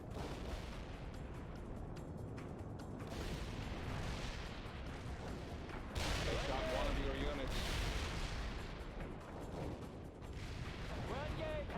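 Artillery and gunfire boom through a NATO-versus-Soviet military strategy game battle in France, dense, continuous blasts and rumbling impacts with a louder burst midway, under game voice callouts.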